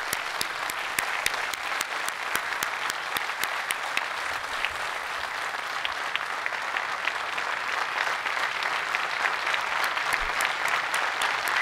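Sustained, dense applause from a gala audience at the QMJHL hockey hall of fame ceremony, a loud even wash of many hands clapping throughout with a few sharper individual claps standing out.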